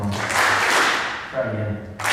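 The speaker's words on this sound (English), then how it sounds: "Two claps for Aubrey, come on." A school awards-assembly audience gives a short burst of clapping, loud and close, fading after a second and then flaring briefly again at the end.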